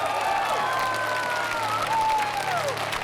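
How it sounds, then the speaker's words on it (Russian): Congregation at a May 2003 Christian crusade rally in Moscow applauding steadily throughout, a dense continuous wash of clapping mixed with scattered voices and cheers in a large hall. "Давайте поаплодируем Ему."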